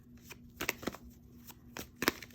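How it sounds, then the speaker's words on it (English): A deck of tarot cards is shuffled by hand in a few soft, papery riffles and slaps, close by and fairly quiet over a faint steady hum. "one more shuffle and then we will get into it"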